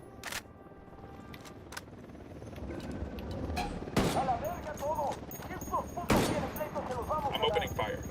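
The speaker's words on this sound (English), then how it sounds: "I'm opening fire." Gunfire in the video game Ghost Recon Wildlands: scattered sharp shots with two loud cracks standing out, plus bursts of automatic fire, mixed with game effects and under voices talking.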